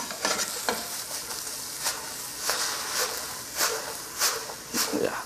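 Sliced yellow crookneck squash and zucchini sizzle in a hot pan while a utensil stirs them in repeated scraping bursts over a steady frying hiss.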